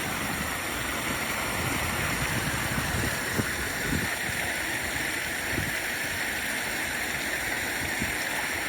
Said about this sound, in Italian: Andiamo proprio a vedere da vicinissimo questa cascata.